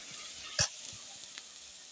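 Chopped onion fries in a pan with a soft, steady sizzle, broken by one louder knock or scrape partway through and a fainter tap later, heard close and without talking.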